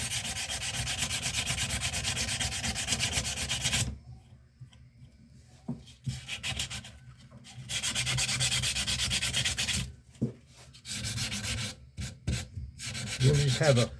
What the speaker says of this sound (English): Wet your sandpaper down and just basically start